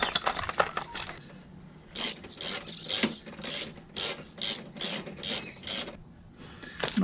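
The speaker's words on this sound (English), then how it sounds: "I always like to thread my bolts back into their little homes" Ratchet wrench threading bolts back into a 2023 Honda CB125F motorcycle during a sprocket and chain upgrade: a run of about eight quick, close, rhythmic ratcheting bursts, with smaller clicks and handling noise at the start.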